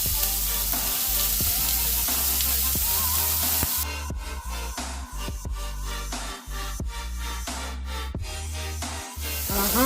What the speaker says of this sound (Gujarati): હવે આપણે એને હાઈ ફ્લેમ પર શેકી લેશું.